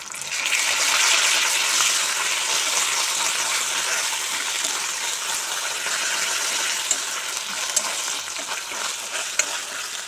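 Ginger garlic paste frying in a pan for Bombay chutney, a loud, continuous close-up sizzle with a few small clicks near the end.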